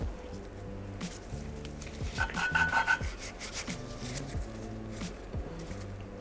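Engine valves for a Renault 5 GT Turbo cylinder head being hand-lapped with grinding paste using a lapping tool, a close, repetitive back-and-forth rubbing and rasping in quick twisting strokes, continuing steadily with no talking.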